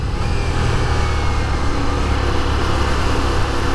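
A 2023 Ducati Diavel V4 motorcycle engine runs steadily and loud for the whole stretch, a dense low rumble with no talk over it.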